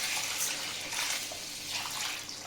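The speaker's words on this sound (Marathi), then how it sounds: "आपण आता हे स्वच्छ 4 ते 5 पाण्यानं डाळ आणि तांदूळ धुवून घेऊया." Urad dal and rice being washed in clean water, a steady close swishing and splashing of water and grains that runs continuously without pause.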